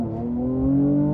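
A Mercedes C43 AMG launching hard, its engine note swelling in a brief, loud rising roar, heard from inside the car.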